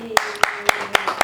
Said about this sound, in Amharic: አጨብጭቡለት።